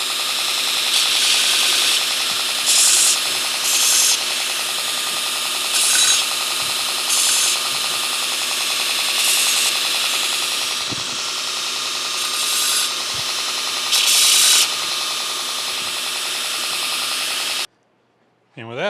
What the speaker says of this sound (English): go around here and sand all these, deburr everything, make sure we got it nice and smooth, no rough edges.